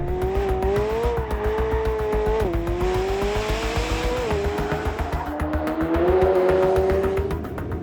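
A 2024 McLaren 750S in track mode accelerates hard, its engine note climbing steadily and dropping briefly at each smooth upshift, loud and close throughout with a faint tire hiss underneath.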